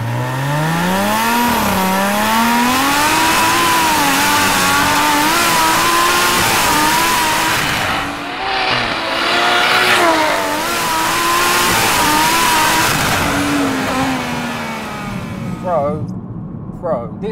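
An 880bhp BMW M140i accelerates hard on a wet road, its engine rising and falling through gears with a loud, sustained revving drone and brief lifts between shifts, heard from inside the car.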